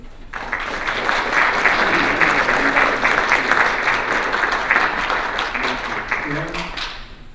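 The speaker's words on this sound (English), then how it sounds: "Fellow Kiwanis, please show your applause in recognition of our board member." Applause at a Golden K Kiwanis club meeting in Decatur for a board member: a room of people clapping steadily and fairly loudly for several seconds before fading out, with voices faintly mixed in.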